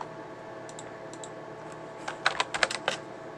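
A computer keyboard typed on in a short burst of crisp, close key clicks that arrives after a quiet stretch with a few faint taps, with no talking over it.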